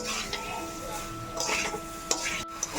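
A spoon stirs potato curry thickened with cashew paste in a pan, with close scraping and soft clinks against the metal and a faint sizzle underneath, and a few sharper knocks near the end.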